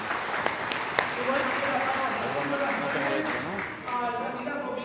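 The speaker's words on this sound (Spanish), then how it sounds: "Un fuerte aplauso" Audience applause at a La Paz mayoral candidate presentation: steady clapping throughout, with voices and murmuring from the crowd audible underneath and a slight dip before it picks up again.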